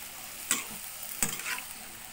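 A stir-fry with oyster sauce is stirred in a pan, with two distinct scraping clinks of the utensil against the pan over a soft sizzle.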